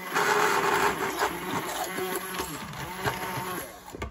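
A blender purees deboned chicken breasts into a smooth cream, its motor grinding and straining in a busy, uneven whir that runs through the whole stretch, with a faint voice now and then.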